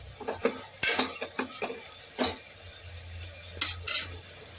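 Chopped vegetables tipped into a cooking pot for a vegetable palya, giving a few scattered clanks and scraping knocks of utensil against metal over a faint low sizzle, with short clustered bursts separated by quieter gaps.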